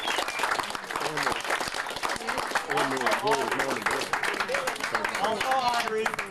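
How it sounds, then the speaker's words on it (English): A crowd claps together in a steady round of applause at a 1999 gathering, dense and sustained throughout while people talk and call out over it. "give Bill and Gloria a round of applause"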